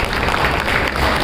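An audience at a Public TV event claps loudly to welcome students onto the stage, a brief, dense burst of many hands at close range.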